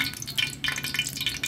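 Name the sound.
cooking oil sizzling in a pan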